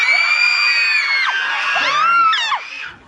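Audience at a Korean film stage greeting for the movie Fabricated City, screaming loudly and shrilly in a sustained chorus of overlapping high-pitched shrieks that fades near the end.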